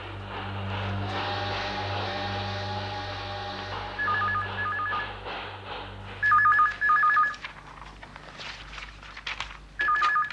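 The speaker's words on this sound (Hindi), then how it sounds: "मैं उनको फोन करती हूँ" A telephone is dialed, its keypad beeping in short clipped bursts of paired tones against a constant low hum and faint background noise.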